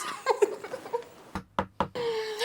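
Three sharp knocks on a door, evenly spaced and fairly close, landing between stretches of conversation.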